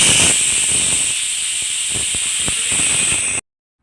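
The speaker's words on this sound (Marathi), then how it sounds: "तर कुकरच्या एक 2-3 शिट्ट्या करून घेतलेल्या आहेत." A pressure cooker of masala rice on the stove vents steam in one loud, steady hiss that holds for about three seconds and then cuts off abruptly, with no voices.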